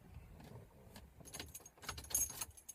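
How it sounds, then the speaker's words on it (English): Car keys jangle and clink as they are pulled from the ignition of a Mach 1, a few light metallic rattles growing louder toward the end, with no talking. "let me take the keys out"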